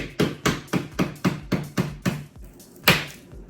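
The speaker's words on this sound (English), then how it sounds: "I feel like maybe if I can get behind a little bit and hammer this way." A painter's tool is hammered behind backsplash tile to pry it loose: about nine sharp, close metallic knocks at a steady beat, then a brief pause and one last harder strike.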